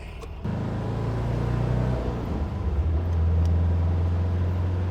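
A 1974 Porsche 914 being driven, its engine note settling into a steady low drone after a brief jump in level, with the tone shifting slightly as it moves through a gear change; no talking.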